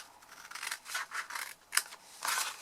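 Scissors cut a paper box for a pen box project, giving about six close crisp snips in an uneven rhythm with no talking.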